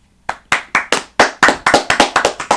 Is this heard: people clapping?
yes